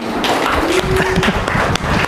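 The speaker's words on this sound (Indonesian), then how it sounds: "Tepuk tangan dulu untuk kalian semuanya" Students in a university classroom give a round of applause, a busy patter of clapping with a teacher's voice partly over it.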